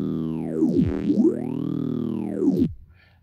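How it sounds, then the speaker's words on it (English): A sustained synth tone with sweeping phaser notches driven by the phaser's LFO, rising and falling slowly, ending abruptly into near silence. "And so what you're hearing is the LFO of the phaser"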